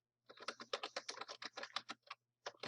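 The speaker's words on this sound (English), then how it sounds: "it's here I can begin typing" Fast, steady typing on a computer keyboard, with close, crisp key clicks in a rapid run, a short pause, then a couple more keystrokes.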